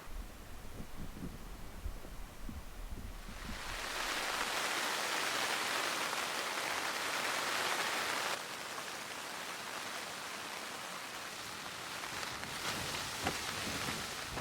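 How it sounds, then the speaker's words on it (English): Heavy rain pours steadily onto a tent while camping in the mountains, a dense hissing roar that swells louder after a few seconds and holds, with gusts of wind and no voices. "It's been raining quite heavily for a few hours and the wind's just picked up."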